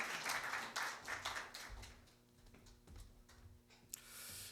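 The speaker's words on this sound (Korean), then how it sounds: "우리 박수하겠습니다" Audience at a church training gathering claps for a pastor, with brief uneven clapping that quickly fades into quiet room noise with a few isolated taps.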